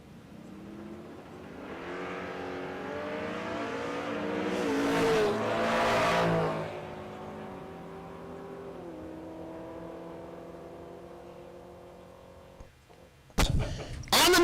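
A sixth-generation Chevrolet Camaro launches and accelerates down the Mo-Kan Dragway strip during a drag race, its engine rising in a long revving whine that peaks and fades into the distance, followed by an abrupt loud burst at the end.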